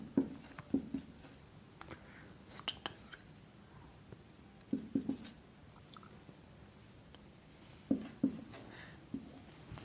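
Handwriting with a pen on paper, in short bursts of close scratchy strokes separated by quiet pauses, heard alone without speech.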